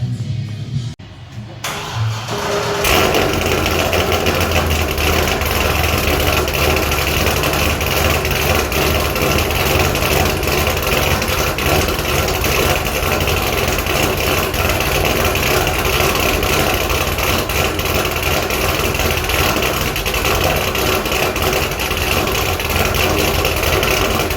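A Corvette C6 Z06 V8 engine with aftermarket headers starts after a brief pause, then settles into a loud, steady, rumbling idle that continues throughout with no talking.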